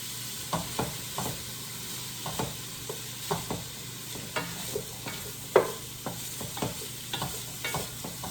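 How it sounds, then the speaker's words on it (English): Sausages frying in a pan over medium-high heat, a steady close sizzle punctuated by regular scrapes and taps of a utensil stirring them, with no talking. "You just want to stir this on occasion, make sure that the sausages get a little bit browner, a little more cooked"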